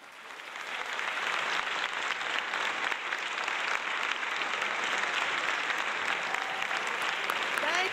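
A conference audience at the 2017 NCRC Annual Conference welcomes Congresswoman Maxine Waters with sustained applause. The clapping swells within the first second and then holds steady and loud to the end.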